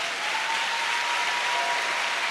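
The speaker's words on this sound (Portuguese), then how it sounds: "Pode aplaudir o Senhor." A church congregation applauds in steady, dense, continuous clapping that fills the whole moment at close range, with no voices over it.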